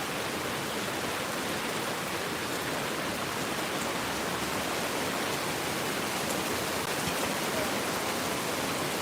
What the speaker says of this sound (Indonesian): Deras banget hujannya.